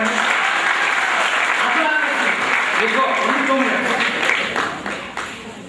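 Audience applause at a retirement function for Madhusudhan, a dense wash of many hands clapping that carries on steadily with a voice speaking over it, then thins out toward the end.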